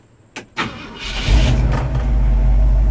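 A cold 1969 Ford F100 pickup engine cranks briefly and catches, settling into a loud, steady low rumble close by, with no talking over it.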